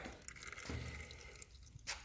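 Fluid is poured into the four-wheel-drive front hub of a Polaris Sportsman ATV, giving a quiet, steady trickle and dribble with a few soft drips, close and faint, with no talking.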